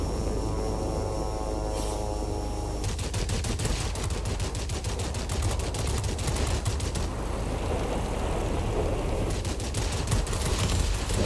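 A Zero fighter plane's guns fire in long, rapid machine-gun bursts over a steady droning engine in World of Warplanes, loud and continuous.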